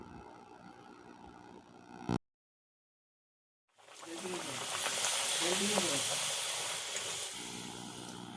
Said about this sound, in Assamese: এতিয়া মই কেৰাহীত মই ৰিফাইন তেল পুৰি ভাজিবৰ কাৰণে দি দিছোঁ।